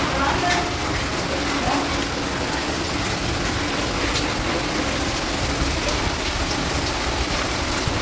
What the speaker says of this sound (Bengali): এত বৃষ্টি হচ্ছে এত বৃষ্টি হচ্ছে